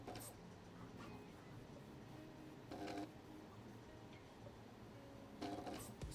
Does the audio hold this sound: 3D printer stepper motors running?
yes